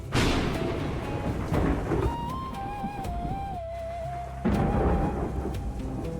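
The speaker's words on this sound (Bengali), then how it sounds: "বৃষ্টি তখনও প্রচন্ড জোরে হচ্ছিল।" Heavy rain and thunder at night, with rumbling bursts at the start, around a second and a half in, and again after a quiet gap, while a thin sliding tone wavers in between.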